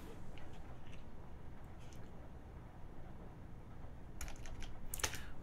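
Keystrokes on a computer keyboard entering a short terminal command on a Linux desktop, a few quiet taps over a steady background hiss, with a brief clustered burst of clicks near the end.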